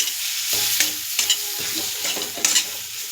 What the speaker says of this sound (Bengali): এইভাবে নাড়তে থাকবে, নাড়াচাড়া ভালো করে দিলে কড়াতে লেগে যাবে না।